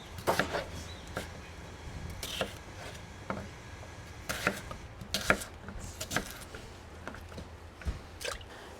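A knife that is not the cook's best chops food on a cutting board during home food processing, giving irregular close, crisp taps and wet squishy cuts at a steady working pace with no talking.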